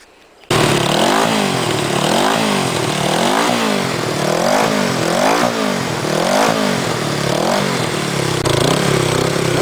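A 33-year-old Honda CB360T motorcycle engine catches after a brief quiet moment, then revs up and down in a steady rising-and-falling rhythm, loud and close throughout.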